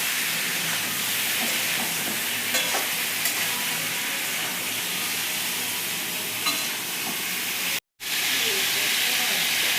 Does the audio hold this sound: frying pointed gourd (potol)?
yes